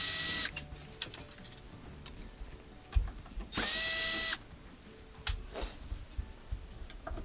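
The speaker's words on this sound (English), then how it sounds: "we just got to take off a couple of Phillips head screws on the back" Phillips head screws being backed out of the rear panel of a Samsung stove, with a brief, loud whirring burst from a driver midway amid quieter scattered clicks and handling taps.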